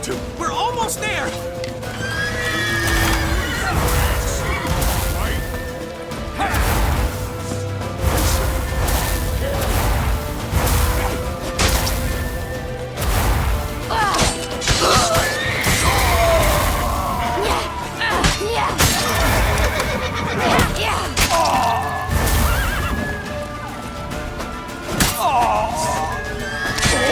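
Horse sounds from The Witcher 3, with repeated whinnies and hoofbeats amid loud battle noise, booms and shouted game dialogue throughout.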